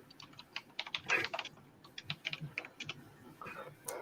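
Quick, irregular keystrokes clatter on a computer keyboard, close and fairly soft, in bursts of clicks with brief pauses between them and no voices.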